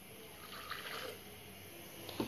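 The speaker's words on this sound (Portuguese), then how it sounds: "vamos colocar primeiramente no liquidificador a água" Hot boiling water pours into a kitchen blender jug, a faint steady liquid splash and trickle heard close up with no voices.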